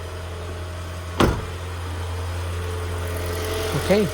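The engine of a 2016 Toyota Auris idles steadily with a low, even hum, with a brief knock or thump about a second in and another short disturbance near the end.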